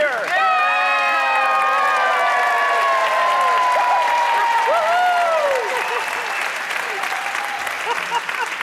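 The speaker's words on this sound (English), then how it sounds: "People cheer." A crowd cheers and applauds with whoops and shouts in a loud, dense wash that holds steady, then eases slightly toward the end, with scattered shrill voices rising above the clapping.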